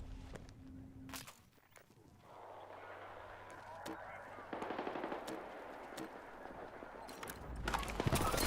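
Gunfire in the Counter-Strike video game, a rapid series of sharp shots in bursts mixed with clicking, footsteps and other game sounds, partly under a speaking voice.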